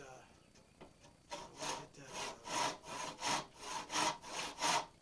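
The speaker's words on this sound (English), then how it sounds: "Once you get a good saw kerf going straight down" A hand saw cuts a kerf into wood for a mortise and tenon joint. It starts with a few light scratches, then settles into about six steady, rhythmic rasping strokes, close up, with no talking.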